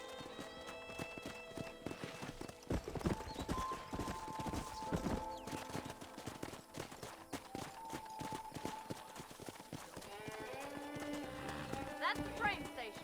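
Horse hooves clip-clop steadily through Red Dead Redemption, a rhythmic run of close, clear beats that continues the whole way under voices and game sound.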